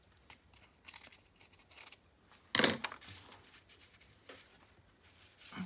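Scissors trimming a small piece of paper for an art journal, one loud crisp snip standing out among soft rustles and faint paper handling, close and quiet otherwise.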